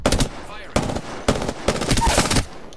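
Loud bursts of automatic gunfire in a Call of Duty match, three or four sharp volleys in quick succession with brief gaps, close and punchy, with faint game noise between.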